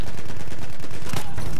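Loud, continuous machine-gun fire from the multiplayer shooter Battlefield 1 rattles close and heavy for the whole moment, with a faint voice underneath.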